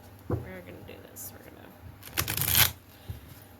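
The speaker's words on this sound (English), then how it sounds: "Let's shuffle this up, see what we get." Tarot cards are shuffled close up in quick riffling bursts, with a longer, louder burst near the end, while a person talks softly.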